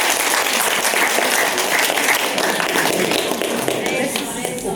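Wedding guests clap for a newly married couple, a dense steady wash of applause from a full room, loud and sustained, with voices mixed in underneath.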